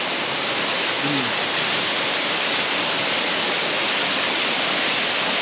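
Cold river water rushes and flows steadily in Chilliwack, British Columbia, a loud, continuous broadband roar close by that fills the whole clip with no pauses.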